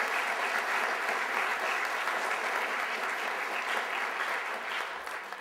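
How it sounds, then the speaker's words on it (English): A literary awards ceremony audience breaks into sustained, dense applause that holds steady and loud throughout, easing off slightly at the very end. "who really does deserve a round of applause for the work that she's done in translation"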